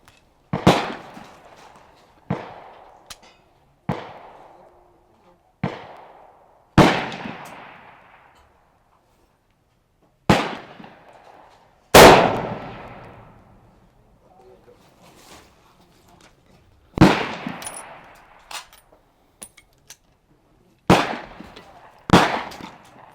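Rifle shots ring out one at a time at a range while a scope is sighted in, about a dozen sharp loud cracks with reverberant tails and irregular pauses between them.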